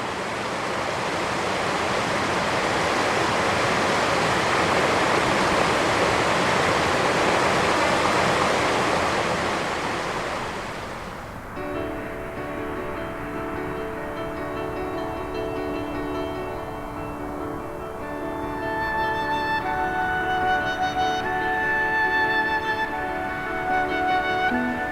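Mountain stream of snowmelt rushing in a loud, steady broadband roar for about eleven seconds, then cutting to softer water noise under quiet sustained music.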